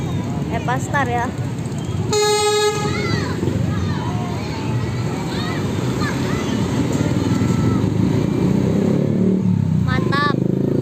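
A Scania Premium bus sounds its telolet horn in a loud, brief musical blast, with shorter melodic toots before and after, over engine rumble and nearby chatter.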